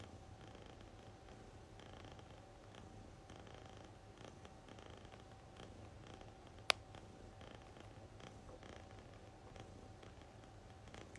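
A pet cat purrs softly and steadily close by, a faint continuous rumbling broken once by a sharp click.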